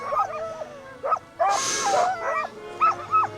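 Sled dogs in the Arctic give high yips, whines and whimpers in repeated short bursts, close and loud, with a brief rush of wind or breath in the middle.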